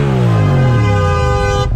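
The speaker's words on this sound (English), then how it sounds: "You're gonna turn from this lane and then honk your horn at me?" A car horn gives one sustained loud honk close by in road traffic, cutting off abruptly near the end.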